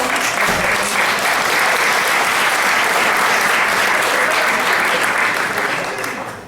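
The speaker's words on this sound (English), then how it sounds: "I was going to call for a round of applause in a couple minutes, but you beat me to it" A conference audience applauds in a dense, sustained wave of clapping that fills the room, steady and loud throughout before tapering slightly at the end.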